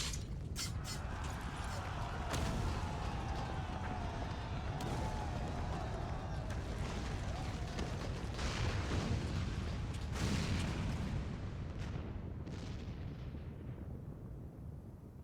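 Heavy cannon fire and the rumbling collapse of a main tower during a battle at Castrum Abania in Final Fantasy XIV, a dense, sustained roar with repeated booming impacts throughout.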